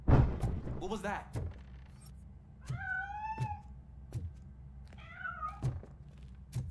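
Cat meowing inside the video game RoboCop: Rogue City, two rising-and-falling meows over a low background hum with scattered soft thuds, fairly close and moderately loud.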